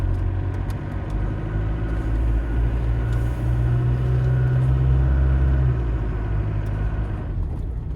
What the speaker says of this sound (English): Foot on the gas pedal.